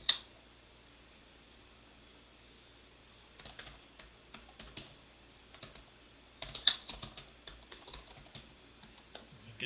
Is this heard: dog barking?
no